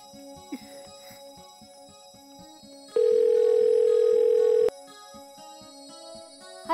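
While a call is being placed on a telephone, a single steady ringing tone sounds for about two seconds over a soft, rhythmic background of light ticking.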